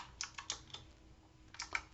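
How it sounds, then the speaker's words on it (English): Quick, faint clicks from a computer keyboard as a short command is typed at a prompt, a few keystrokes in a burst, a brief pause, then a couple more. "we're going to type in ping"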